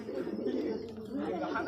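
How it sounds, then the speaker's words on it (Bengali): Racing pigeons just landed back at the loft after a flying match, giving soft low cooing close by, with faint chatter of people in the background. "বাচ্চুদার 6 পিস পায়রা এই মাত্র নামলো"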